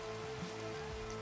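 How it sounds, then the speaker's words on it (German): Steady rain in Minecraft, a dense, even hiss of falling drops with a faint sustained tone beneath, continuous and close throughout. "Warum regnet's?"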